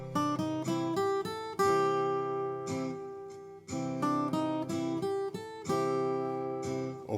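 A blues guitar lick in C rings out up close, moving from the C position to the F and back, with plucked notes and held bends in phrased bursts separated by brief pauses.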